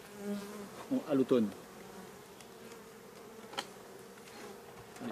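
Honeybees buzz around a beehive in a soft, steady drone, with a few louder close passes near the start, while a person speaks briefly.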